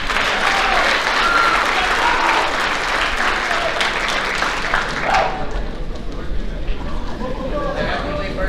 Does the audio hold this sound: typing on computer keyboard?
no